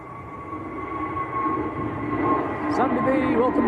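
An EasyJet airliner bound for Tenerife South at Manchester Airport, heard as a steady engine rumble with a sustained whine that grows slightly louder, under windy conditions.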